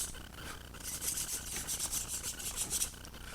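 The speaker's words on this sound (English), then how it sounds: "Give it just a light sanding to make sure" Light, rhythmic rubbing of sandpaper on a P-40C Tomahawk scale model wing in short back-and-forth strokes, close and fairly quiet, with no talking.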